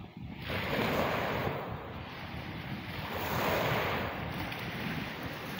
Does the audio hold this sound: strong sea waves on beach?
yes